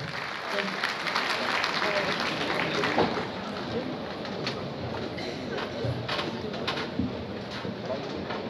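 A crowd claps steadily at a friendship gathering, dense applause filling the whole stretch at moderate loudness, with a few louder claps standing out and faint voices underneath.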